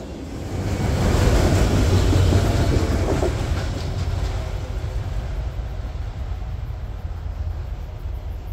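A freight train hauling auto rack cars rolls past, a heavy rumbling roar that swells to a peak early, then settles into steady rattling and clacking of wagons as it continues by.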